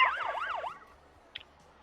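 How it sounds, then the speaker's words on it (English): A truck siren in the Motor Town driving game wails in a rising and falling electronic sweep for under a second, then cuts off abruptly, leaving a quiet engine hum and one brief click. "I don't need to hear the siren, man."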